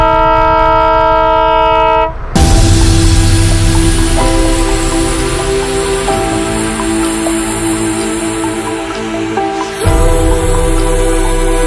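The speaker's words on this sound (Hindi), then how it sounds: "छुक छुक छुक छुक छुक छुक छुक छुक रेल गाड़ी, रेल गाड़ी" Train passing close by during a motorcycle trip in Gujarat: a loud, sustained horn blast opens, then the heavy rolling roar and clatter of the cars takes over, steady and near, with a brief dip before the noise resumes.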